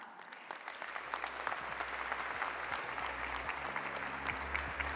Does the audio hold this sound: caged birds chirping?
no